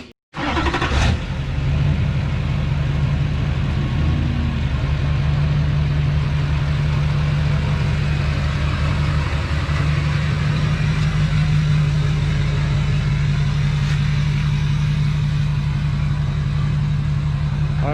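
A Duramax diesel truck engine idles steadily and close by for the whole stretch as it moves up to pull a trailer out, with a low, even rumble and a brief louder burst near the start.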